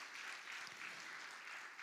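Sustained applause from a church congregation, steady and fairly faint, a continuous wash of clapping with no pauses.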